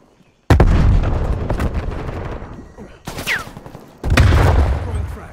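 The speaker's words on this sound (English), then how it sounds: "Simtex going out." A Semtex grenade detonates in Call of Duty: Black Ops Cold War on the Cartel map, a loud, sudden blast followed by rumbling decay, then further sharp bursts of gunfire and another heavy boom.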